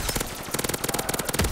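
Rapid automatic gunfire in Call of Duty Black Ops 3 Zombies on a SpongeBob Rock Bottom map, a fast even stream of close, punchy shots filling the brief moment.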